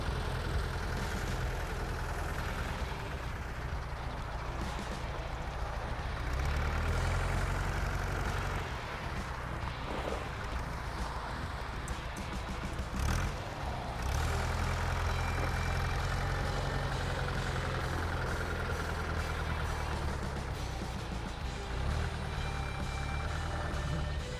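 A small 28-horsepower four-cylinder Kubota L1 tractor engine idles steadily for a long stretch, a low even chugging rumble with occasional slight surges and no voices.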